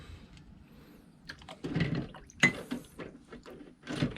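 Pressure washer carburetor dropped into a cleaning bath of distilled water, giving a faint plunk and sloshing, trickling liquid sounds, quiet and close.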